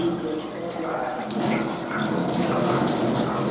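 Tap water runs steadily during a surgical hand scrub as fingernails are cleaned under the stream, a broadband rushing that grows a bit louder partway through and continues to the end.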